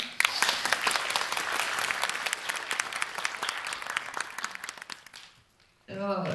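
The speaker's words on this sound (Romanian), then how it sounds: "Pentru asta trebuie să le mulțumim și să îi aplaudăm" Crowd applause at a 30th anniversary ceremony of a postsecondary medical school honoring doctors and nurses, dense sustained clapping that fades out toward the end before a voice starts speaking.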